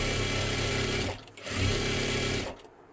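An electric sewing machine stitches net saree fabric into a fancy frock, running in two close bursts of rapid, even whirring with a brief pause between, then stopping.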